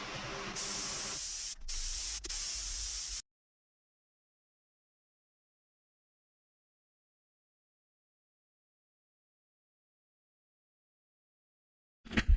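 A spray gun lays down a final coat of paint, a loud steady hiss for about three seconds with a brief break, then silence before a short burst returns at the very end.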